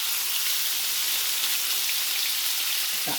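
Eye-round steak, pounded thin, sizzles steadily in heated olive oil in a pan, a dense, even frying hiss with faint crackles throughout, close and fairly loud.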